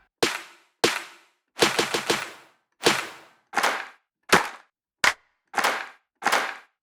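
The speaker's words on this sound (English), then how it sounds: "Let's do modern claps." Modern clap samples from the Keepforest Evolution Devastator Warzone library: ten sharp, punchy claps in an irregular sequence, some with a swelling whoosh lead-in and a quick triple burst near the start, loud and dry with no voices.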